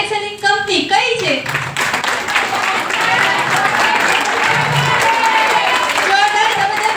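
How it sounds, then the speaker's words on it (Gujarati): A direct-selling company meeting audience bursts into steady, sustained applause that fills the room for several seconds after a brief spoken prompt at the start. "જોરદાર જબરદસ્ત એક આપણી કંપની માટે તાળી થઈ ગઈ"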